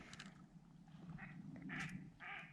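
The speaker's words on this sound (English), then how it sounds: "there goes some ducks" Ducks quack a few times in short, faint bursts in the open outdoors of a Montana hunting trip, heard from some distance.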